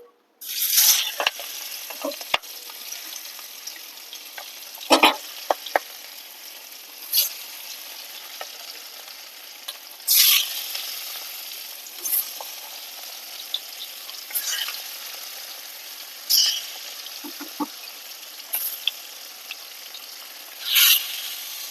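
Large pomfret fish frying in hot oil, a steady bright sizzle broken by repeated scraping bursts from a spatula turning the pieces.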